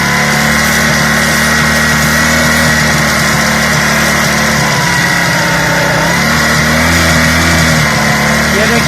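A Honda CD 70 motorcycle engine runs steadily close up during carburetor idle and mixture adjustment, a loud continuous buzzing drone with the revs rising slightly toward the end as someone talks over it.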